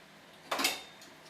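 Angel hair pasta drops into a pot of water with one brief, soft splash and rattle, fading quickly into a quiet kitchen.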